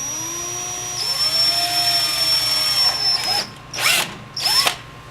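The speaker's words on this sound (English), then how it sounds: "I am going to go ahead and use my drill" A power drill whines steadily at high speed while drilling a hole for a chicken waterer, its pitch dipping as it bites, then two short bursts of drilling near the end.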